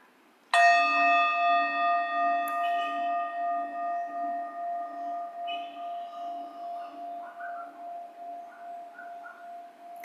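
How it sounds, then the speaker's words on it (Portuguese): A single struck meditation bell rings out once, close and clear, then hums on with a long, slowly fading resonance that lasts for several seconds in quiet surroundings. "Deixe que o som do sino"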